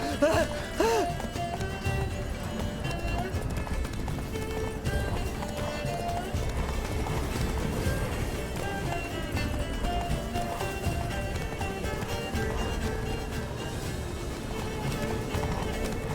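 Geralt's horse Roach gallops hard in The Witcher 3, hoofbeats pounding in a fast continuous rhythm under loud game music, while characters talk over the run.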